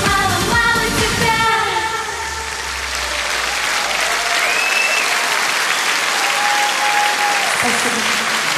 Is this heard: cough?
no